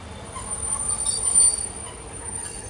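An old train pulls into a station platform on the Brașov to Sibiu line in Romania, its wheels giving a thin, sustained high squeal over a low rolling rumble that swells briefly and then eases, heard from nearby.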